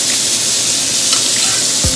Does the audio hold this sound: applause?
no